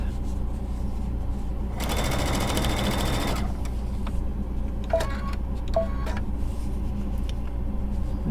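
A sewing machine stitches a placemat in one short, fast burst of about a second and a half, followed by a few light clicks over a quiet room hum.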